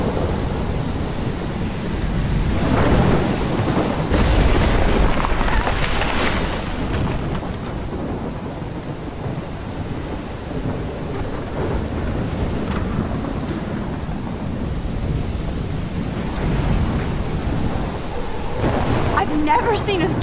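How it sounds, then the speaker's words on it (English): A thunderstorm with heavy rain in the video game Life is Strange: a dense, constant roar of rainfall with deep rumbling thunder rolling through, loud and continuous with no voices. "never seen a storm like this in Oregon."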